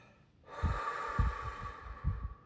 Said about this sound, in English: just taking deep breaths and releasing with the intention of releasing and clearing